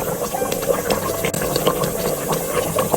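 Nihari stew cooking in a pot, a steady bubbling simmer with soft hissing and small popping bubbles, continuous and close.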